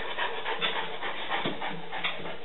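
Two dogs pant steadily through a shiatsu session, quick rhythmic breathing close by and fairly loud, with faint background noise.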